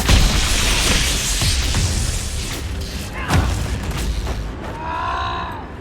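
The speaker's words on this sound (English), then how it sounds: "So I tried to use more confusion grenades, or grenades in general," Grenade blasts go off in Dragon Age Inquisition, a dense roaring boom that sustains heavily, then another thud midway, followed by a whooshing, warbling tail.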